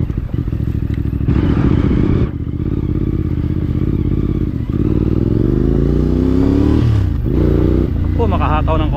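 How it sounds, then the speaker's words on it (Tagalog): Dirt bikes riding behind a CFMoto 450MT off-road, engines droning and revving with rising and falling pitch, loud and close over wind and clatter, with a rider talking throughout. "Ito na yung mga naka-dirt bike sa likuran ko."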